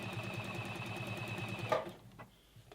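A sewing machine stitching the front and back of a dolman top together, a rapid steady mechanical rattle running close and loud before it stops abruptly, followed by a few faint clicks and handling sounds.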